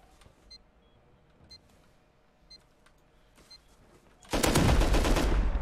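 Video game gunfire during a raid through a door: after quiet stretches with faint ticking and clicks, a loud, dense, sustained burst of shooting erupts near the end and continues to the cutoff.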